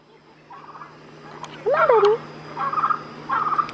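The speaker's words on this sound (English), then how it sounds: "Look at the turkeys." Turkeys at a drive-thru safari give a few short, warbling gobbles and calls in bursts, fairly close, against a quiet background with faint voices nearby.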